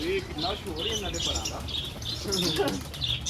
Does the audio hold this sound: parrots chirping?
yes